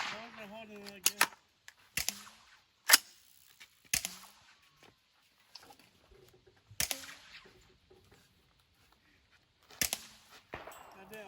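A KA-15 rifle test fires 62-grain 5.56 rounds: sharp, loud, close single cracks at irregular intervals of a second or more, separated by quiet gaps with faint handling noise and some speech.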